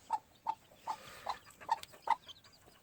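Gamefowl chickens, hatch gray crosses on a farm, cluck in about six short, evenly spaced calls, fairly close and moderately loud against a quiet background.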